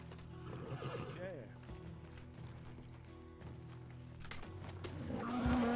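In a Red Dead roleplay game, a horse whinnies loudly in a rising squeal while hooves clip-clop beneath, with game music running throughout and another neigh building at the end.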